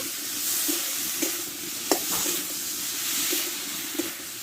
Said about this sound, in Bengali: কষে রাখা আলুটা আমি দিয়ে দেবো একসঙ্গে ভালো করে কষে নেব